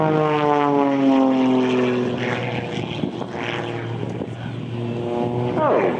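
A Pitts S2S muscle biplane's engine roars during an aerobatic display, its propeller drone rising and falling in pitch as it manoeuvres, loud and close, with commentary over it.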